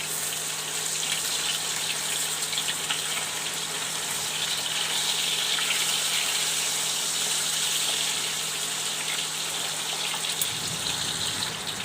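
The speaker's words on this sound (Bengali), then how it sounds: "তেল গরম হয়ে গেছে, আমি মাছটা দিয়ে দিচ্ছি। মাছটা ভেজে নিই।" Fish fries in hot oil in a pan, giving a loud, steady, even hiss that continues unbroken throughout.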